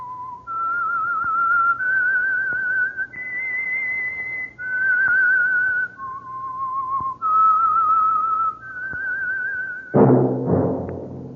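A lone whistler carries a slow, eerie tune of about eight long held notes for The Whistler radio program's Signal Oil opening. The notes are clear and close, and a brief louder burst of sound comes at the end.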